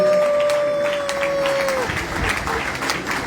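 Steady audience applause at a gospel music performance fills the space, a dense wash of clapping with a sustained tone fading out partway through.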